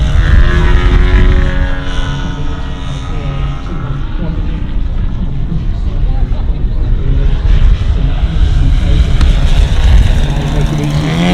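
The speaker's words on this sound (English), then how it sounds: "So this aircraft is exhibiting exhaust. Here it's nice and quiet, so it's good for club fields." A CARF Chipmunk model aircraft flying at an air show, a steady droning engine and propeller that stays loud across the whole stretch, with someone talking over it.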